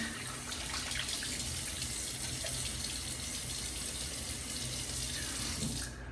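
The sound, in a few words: tap water running while wetting face for shave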